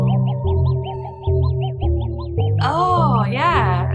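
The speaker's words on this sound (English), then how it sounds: "Little bird whistles." Synthetic little bird whistles in an electronic song repeat as short, evenly spaced chirps over a pulsing beat, then turn into louder swooping, distorted twitters.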